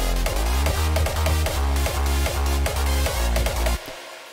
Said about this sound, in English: So yeah, these chords and the leads with the kick sound like this.